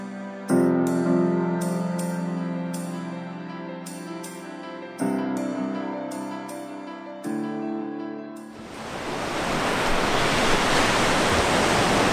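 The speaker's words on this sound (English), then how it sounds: "The beach now." Waves break on a beach near Mazarrón in Spain, arriving as a broad steady roar of surf that swells up after a stretch of tonal background sound.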